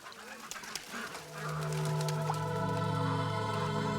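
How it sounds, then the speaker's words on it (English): A flock of geese on a pond kicks up a loud, sustained racket of overlapping honks and calls, building from scattered cries into a dense, steady chorus. "a flock of geese in the pond below kicked up an unusual racket"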